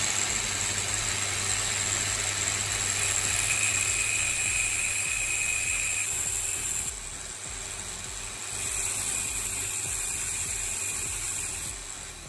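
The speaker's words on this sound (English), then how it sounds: "Use your cutting wheel to slice two small notches on opposite sides of the handle." A cutting wheel on a rotary tool slices notches into a spoon handle, giving a continuous high whine with a steady motor hum underneath, close and fairly quiet, dipping briefly midway as the cut changes.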